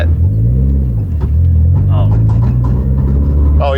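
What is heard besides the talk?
Nissan S15 car engine running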